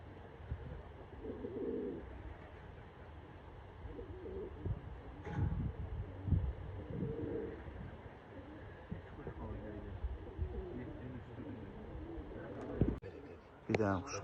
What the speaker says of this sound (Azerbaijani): Quşlar maşallah yerindən çıxır.